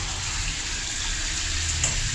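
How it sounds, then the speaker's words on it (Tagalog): Steady, even hiss of water streaming from a newly installed bathroom shower head, like rainfall, running continuously at close range with no voices. "Tapos ito yung shower head. Yun o, ang ganda. Parang umuulan."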